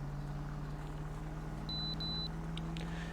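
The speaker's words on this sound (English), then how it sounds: "That body cam beep dope." A police body cam in GTA 5 FiveM roleplay beeps twice in quick succession, thin and clear, over a constant low engine-like drone.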